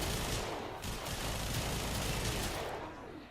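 Sustained, dense automatic gunfire from Mesa's Peacemaker ability in the video game Warframe, a loud continuous rattling barrage that holds steady for several seconds before tapering slightly at the end, with no talking.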